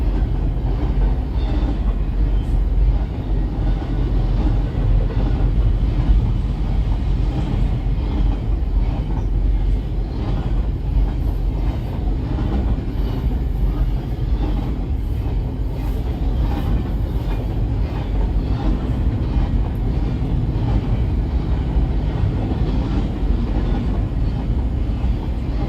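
A fast BNSF freight train rolls past a crossing in Friona, Texas, a loud continuous rumble and roar of wheels and cars sustained for the whole stretch, close and steady without letting up.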